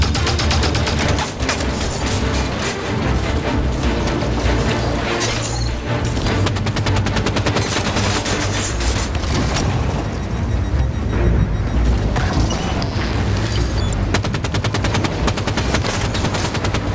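Rapid, dense gunfire from the video game Halo 5 rattles continuously, loud and close, with bursts of automatic shots and booming impacts overlapping with no pause.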